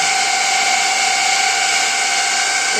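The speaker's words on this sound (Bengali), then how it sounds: "ফ্যানের শব্দগুলো দেখুন" Several cooling fans spin up on a high-performance machine just after its main power is switched on, producing a loud, steady, close whooshing whir with faint tonal hum lines running continuously, with no one talking.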